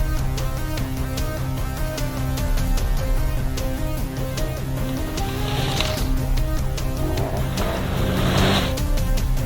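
A 2021 KTM 1290 Super Adventure S motorcycle, the road-going S model on mag wheels, rumbles along with a steady, loud engine note and layered harmonics, with bursts of wind and road hiss swelling near the end.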